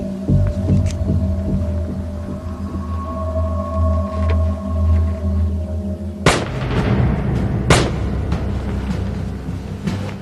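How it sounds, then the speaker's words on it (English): Two sharp, loud cracks of gunfire burst out after a steady low engine hum, the second shot about a second and a half later, during the Norway massacre mass shooting. "I hear gunshots."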